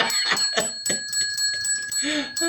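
A ring-for-service desk bell is struck repeatedly in quick succession, bright metallic dings with sustained ringing tones overlapping, close and loud, with some voices or handling noise between strikes.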